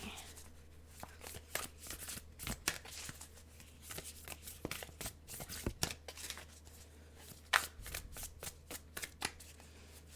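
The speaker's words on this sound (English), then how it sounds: "Sometimes, it's hard for me to shuffle these cards." Tarot cards from a large deck being shuffled in quick, irregular riffles and slaps, close up and fairly quiet, with short pauses between bursts.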